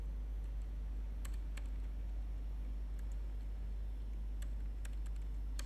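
Keystrokes on a computer keyboard entering a print command in a router terminal, a few scattered quiet clicks in small bursts over a steady low hum.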